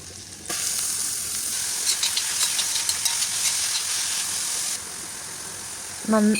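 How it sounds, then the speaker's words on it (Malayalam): Onion, ginger and garlic frying in coconut oil give a loud, steady sizzle after a brief quiet start, with crackling spits throughout and a few clattering stirs near the end. "അതിനുശേഷം നമ്മൾ ചോപ്പ് ചെയ്ത് വെച്ചേക്കുന്ന സവോള ഇട്ട് കൊടുക്കണം."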